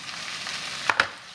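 Broccoli sautéing in olive oil in a pan, a steady soft sizzle and crackle throughout, close, with two sharp clinks near the end as it is turned.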